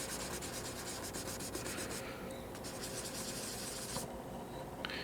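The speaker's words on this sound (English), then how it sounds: "you can sit here and sand on one little gold spot" Hand sanding of the clear coat on a Honda gold insert, a continuous close scratchy rubbing with quick back-and-forth strokes, steady and fairly loud with no talking.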